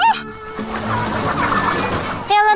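Cartoon little red hen clucking in a series of bright, repeated calls, loud and close, with other voices and a busy animated soundtrack around it.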